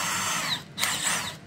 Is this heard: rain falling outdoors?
no